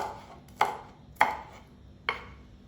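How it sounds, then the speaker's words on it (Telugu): A knife chops green beans for vegetable fried rice on a cutting board, three separate sharp thuds spaced about half a second apart, close and fairly quiet with no talking. "బీన్స్ కూడా ఇలా కట్ చేసుకుంటున్నాను."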